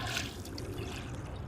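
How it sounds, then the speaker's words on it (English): Water trickles and laps against a small craft paddling up the South Tyne River in Northumberland, a soft continuous wash heard close by with no voices. "I'm just going on a little paddle up the South Tyne River in Northumberland"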